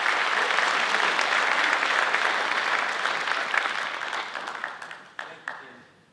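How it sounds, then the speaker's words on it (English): A hall of fame ceremony crowd gives loud, dense applause that slowly thins out. A few last separate claps are heard near the end as it fades. "Let's give him a round of applause."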